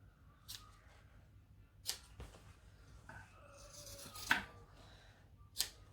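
Scissors snipping through fabric beside sewn stitches, a few crisp, sparse cuts with soft rustling of the material between them, close and fairly quiet with no talk.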